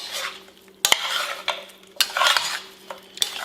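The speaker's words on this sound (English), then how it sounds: "So now just stir it up." A spoon stirs a lemongrass chicken marinade in a bowl, giving irregular scraping swishes broken by a few sharp clinks against the side, close by and with no voices.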